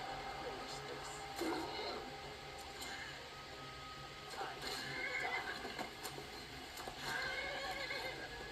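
A horse in Skyrim neighs and whinnies amid clip-clopping hooves, fairly close but moderate in level, with someone talking quietly over parts of it.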